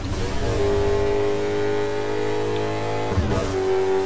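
A car engine hums and revs steadily while driving in the Burnout racing video game, a sustained mid-pitched drone with a brief shift near the end.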